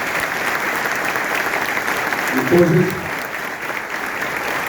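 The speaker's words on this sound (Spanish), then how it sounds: "por eso pido un aplauso para la ministra." A seated audience at a union leaders' training session applauds a government minister with steady, loud, even clapping throughout, and a voice briefly speaks over it.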